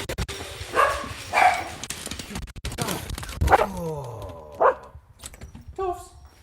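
Pet dogs barking and yipping indoors in a home kitchen, several short barks and whimpers at irregular intervals, mixed with people talking close by.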